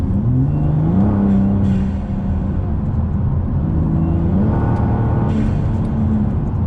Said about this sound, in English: you can hear the turbo spool up better